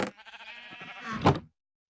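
A sheep from the video game Minecraft bleats once, a wavering nasal baa lasting about a second and a half, loud and close with silence after.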